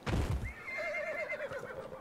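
A horse whinnies in a long, wavering neigh after a brief low thump, with faint hoof clatter in the background, in the Hissing Wastes of Dragon Age: Inquisition.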